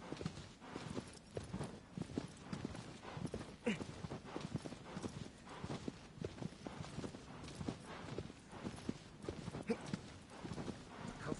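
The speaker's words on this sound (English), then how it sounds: "I just ride on my horse" Horse hooves clip-clop in a steady walking rhythm throughout, close and fairly quiet, with no talking.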